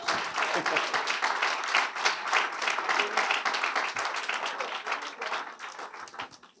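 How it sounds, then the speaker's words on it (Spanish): A church congregation claps during a sermon, dense rhythmic applause from many hands that swells and gradually thins toward the end, with a few voices mixed in. "Denle un aplauso al Señor"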